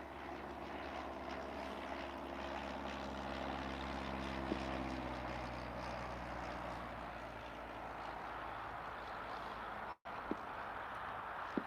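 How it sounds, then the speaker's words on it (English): A slow propeller airplane passes overhead outdoors, a steady droning engine hum that slowly shifts in pitch as it crosses, fairly distant and even, with a brief dropout near the end. "That plane is flying extremely slow."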